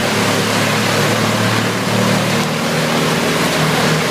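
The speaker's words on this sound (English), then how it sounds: "The Vermeer WC2300XL Hole tree chipper operates like a mechanical warrior on the edge of a wooded area near a suburban home." A Vermeer WC2300XL tree chipper runs at the edge of a wooded area near a suburban home, a loud, continuous engine drone with dense rumbling noise and no breaks throughout.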